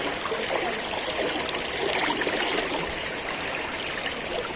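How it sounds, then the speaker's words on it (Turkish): Cold, clear water flows in a stream in a calm wooded spot, a continuous close rushing and babbling wash with no voices over it. "Suyun nasıl aktığını görün arkadaşlar."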